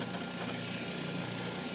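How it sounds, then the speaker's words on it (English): SilkPeel microdermabrasion machine with its vacuum running, giving a steady, faint, motor-like hum that stays even and unbroken throughout. "So it sounds like a motor, but really it's the vacuum."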